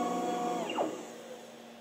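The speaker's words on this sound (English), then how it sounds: "And then the machine parks when it's finished." A MultiCam M Series 5x5 CNC router parks after finishing a job, its motor whine sweeping down in pitch over a steady hum, then settling quieter.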